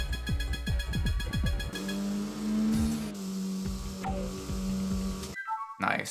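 Car engine in the Tokyo Xtreme Racer video game, revving up through repeated gear shifts, then a sustained steady engine drone with shifting pitch, loud and close amid game sound effects.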